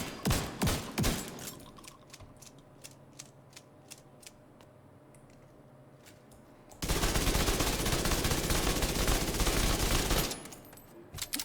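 Rapid SMG gunfire from The Division 2, a sustained loud burst of automatic fire lasting a few seconds after scattered single shots and clicks.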